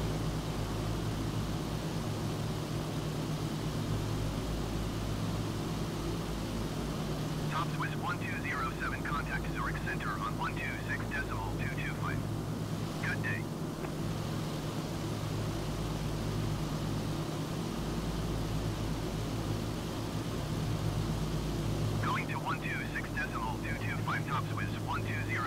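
A Douglas DC-6's piston engines drone steadily throughout a Microsoft Flight Simulator flight from Zurich toward London Gatwick, a constant loud rumble with brief spoken passages over it.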